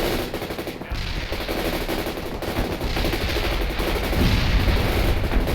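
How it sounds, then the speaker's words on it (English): Loud, sustained machine-gun fire and battle noise from the World in Conflict video game, dense and continuous with no pauses. "We're under fire!"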